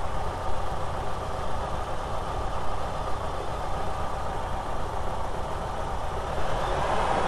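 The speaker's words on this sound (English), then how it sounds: "The engine's flaring RPM wise." VW T3 van engine idling close by with an intermittent lack-of-power fault, a steady rough rumble that swells slightly toward the end, heard alone without talking.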